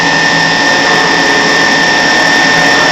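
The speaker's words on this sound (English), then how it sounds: "I'm going to run that tool one more time and we should have a good part. You can see here I'm going to rerun that bore." A CNC machine reruns a boring tool through a part in a barn workshop, producing a loud, steady whining hum with a constant high tone and no break or talk.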